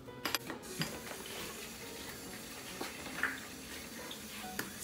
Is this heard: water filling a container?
yes